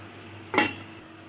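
A lid is set onto a pot of cooking aloo bharta: a single short clatter of metal lasting about a tenth of a second, standing alone over a low, steady kitchen hum.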